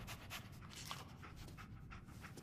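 The dog companion Dogmeat pants in the Fallout 4 video game, a steady, rapid breathy rhythm that continues quietly and unbroken throughout.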